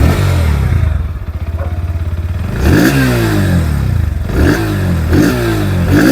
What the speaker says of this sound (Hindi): यहाँ पर आप लोगों को जो अंडरव्हील एग्जॉस्ट है वो देखने में मिल रहा है। इसकी भी जो दोस्तों आवाज़ है वो आप लोग सुन लीजिए।